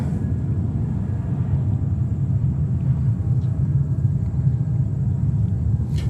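A Boeing 787 Dreamliner rolls for takeoff at New York JFK Airport, a steady, loud, low jet rumble holding evenly throughout without a break.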